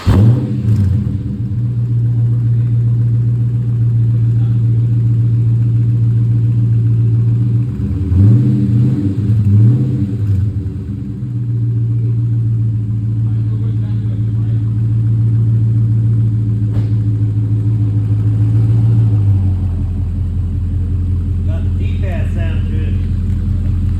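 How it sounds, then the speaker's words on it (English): A Dodge Charger Scat Pack with a loud, straight-piped exhaust rumbles steadily at close range and is revved briefly in the middle, with voices in the background. "Take them other mufflers off, it's loud as shit."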